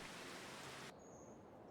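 Rain falling in Farming Simulator 25, a soft steady hiss that drops abruptly partway through to a thinner, quieter patter.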